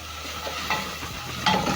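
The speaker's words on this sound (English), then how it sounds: "I'm going to add in onions. Stir in. As the onion is cooking" Onions fry in hot cooking oil while being stirred, a close, continuous sizzle with a couple of brief scraping surges.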